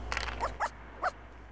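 A healthy dog gives several short, high yips or whimpers spaced about half a second apart, close and moderately loud over a low background hum.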